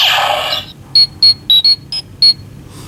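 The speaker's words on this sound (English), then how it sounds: "the second time you do it, it just plays the Mighty Morphin communicator beep" A Power Rangers Super Megaforce morpher toy sounds the Mighty Morphin communicator beep: six short high electronic chirps in an uneven rhythm, close and clear after a brief burst of noise.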